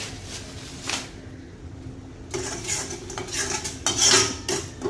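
A spoon scrapes and clatters against a pan as crispy soya chilli is stirred quickly, giving irregular metallic knocks and scraping over a faint background sizzle, with no talking.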